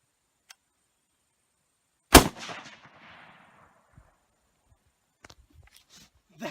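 A Mosin Nagant rifle chambered in 7.62x54R with a customized Archangel stock fires one sharp, loud shot outdoors on a deer hunt, then echoes away, followed by faint small rustles.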